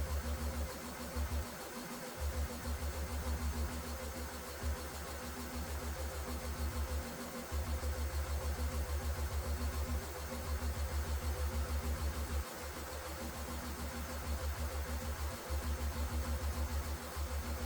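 A diesel engine running on 80% waste oil idles with a steady low, throbbing drone, its pulsing hum briefly dipping and resuming at a few points, with no voices over it.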